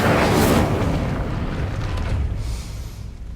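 A fire spell is cast in the video game Hogwarts Legacy, giving a loud, rumbling burst of flame that swells at once and then slowly fades away over a few seconds.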